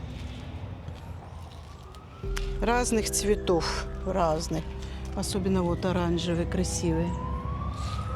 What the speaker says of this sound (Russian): Скорая помощь кому-то приехала, но не к нам.